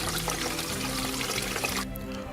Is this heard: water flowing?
yes